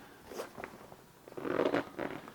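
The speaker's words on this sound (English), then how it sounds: "It's a zipper here on the back panel." A zipper on the back panel of a WANDRD Stratus Photo 18L backpack is drawn open in a few short, scratchy pulls, soft and close, with quiet pauses between the strokes.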